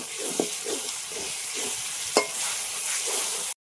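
Spice paste for mutton curry, with ground nuts, nutmeg and chili powder, fries in oil with a little water, a steady close sizzle broken by a few spoon scrapes and stirs.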